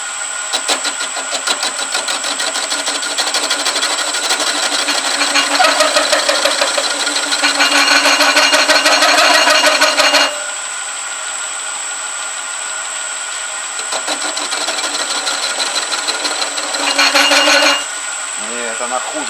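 A lathe parting tool fitted with a Chinese cutting insert cuts into metal, giving a steady loud grinding and whining drone that runs for about ten seconds, pauses to a quieter hum, then returns in a second pass.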